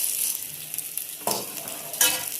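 Two handfuls of roasted, skinned peanuts go into a pan of sautéed onions for peanut chutney, with a soft sizzle under two sharp stirring scrapes and clatters, close up.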